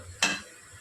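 Chopped onions and green chillies hit hot oil in a pan for restaurant-style palak paneer, making a sudden bright hiss that swells briefly and settles within half a second, close and fairly quiet, with no talk.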